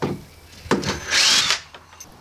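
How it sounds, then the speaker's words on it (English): A power drill drives a screw into wood framing during a porch-to-sunroom build, with a short, loud whirring burst after some knocks and handling noise, close up. "Drive the screw home."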